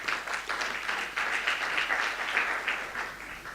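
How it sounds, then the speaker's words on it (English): Audience applause after a talk at an industry-academia workshop, a steady, fairly even round of clapping from a modest crowd that continues throughout. "Ladies and gentlemen, one more time, a round of applause for Efesi Musoke."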